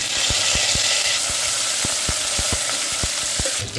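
Cinnamon, cardamom and cloves sauté in butter with a loud, constant close sizzle, while evenly spaced knocking taps of a spoon against the pan repeat through it.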